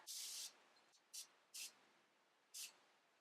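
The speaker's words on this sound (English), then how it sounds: "I'll be spraying it with their setting spray." Setting spray mists onto a Morphe M124 flat makeup brush in close, quiet hisses: one long burst, then three short sharp spritzes.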